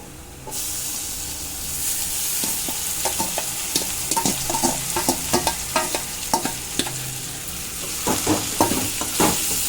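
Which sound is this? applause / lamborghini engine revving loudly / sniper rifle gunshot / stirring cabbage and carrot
stirring cabbage and carrot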